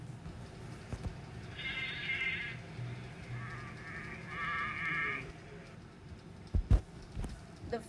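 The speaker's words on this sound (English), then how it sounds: "the sheep says," Sheep bleating in a couple of mid-pitched, wavering calls, a short one followed by a longer one after a pause, over a soft background with a few clicks near the end.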